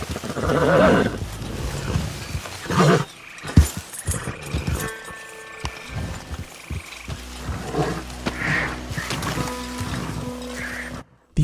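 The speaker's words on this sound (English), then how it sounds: "The horse is not happy." An unhappy mare whinnies and snorts in a long, rough, wavering outburst near a cabin, loud and close, with shuffling and other noise around it and no talk.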